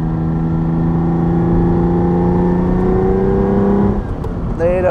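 A 1973 Ferrari 246 GT Dino with a slipping clutch drones loudly at steady revs from inside the car, engine tone holding flat before dropping off near the end as a voice briefly starts.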